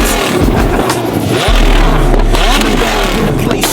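A car at an underground night meet launches off a two-step limiter, a loud sustained roar of engine and crackle filling the space up close, with a sharp burst midway as it pulls away amid crowd noise.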